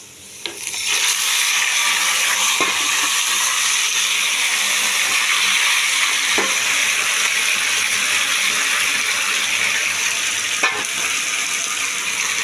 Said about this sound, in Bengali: মাংসটা দিয়ে বেশ করে একটু ভেজে নেব